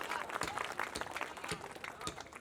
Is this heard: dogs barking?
no